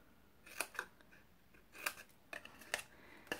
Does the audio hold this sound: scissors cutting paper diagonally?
yes